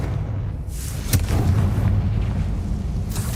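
A Confringo blasting spell in Hogwarts Legacy bursts with a single booming explosion about a second in, then a rumbling tail over steady game ambience.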